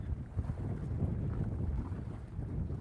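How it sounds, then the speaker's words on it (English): Wind gusts over a choppy lake, a low rumbling buffet against the microphone that surges and eases, steady and close with no talk. "that wind comes through that valley and just starts whipping"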